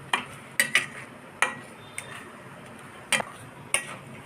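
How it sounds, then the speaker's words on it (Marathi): Amla murabba cooking in thick sugar syrup is stirred in a pot, giving a handful of separate scraping, clinking strokes against a quiet simmering background. "हलवत राहायचं सारखं, लागणार नाही असं पद्धतीने हलवत राहायचं"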